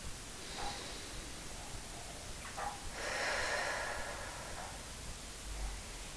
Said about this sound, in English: It's a quiet inhale through the nose, and a gentle exhale through the mouth.